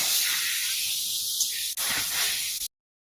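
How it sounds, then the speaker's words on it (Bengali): Loud broad hiss of water hitting hot frying spices (turmeric, coriander, cumin and chilli powder) for a Bengali prawn and elephant-foot yam dish, steady for about two and a half seconds with a brief break, then cut off. "জল দিলাম।"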